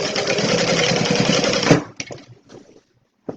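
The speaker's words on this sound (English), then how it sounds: "I am just going to backstitch or go over my handles again really quick since I didn't backstitch." A sewing machine stitches back over the handles of a Stella Weekender travel bag, running steadily and loudly for almost two seconds, then stopping and leaving a few faint clicks and handling noises.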